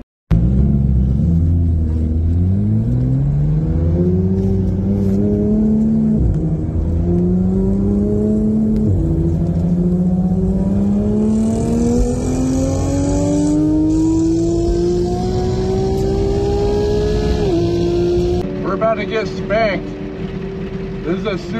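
A supercharged Corvette ZR1 revs loud and close at a race day, its engine pitch climbing steadily through a long pull with a brief drop near the end, while people talk over it.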